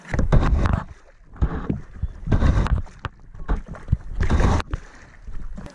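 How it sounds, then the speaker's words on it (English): Paddles working a canoe on a calm river, with bursts of splashing and water churning in an uneven rhythm, close and fairly loud, broken by short quieter gaps. "Push with your paddle."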